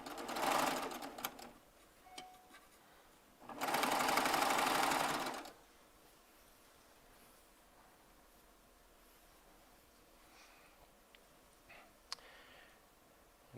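Baby Lock Triumph serger chain piecing fabric strips, running in two loud whirring bursts of roughly two seconds each, then quiet with faint clicks and fabric handling.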